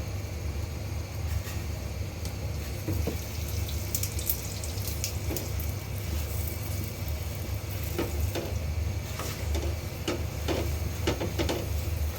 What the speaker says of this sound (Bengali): রুটিটা একটু তেল দিয়ে ভেজে নিব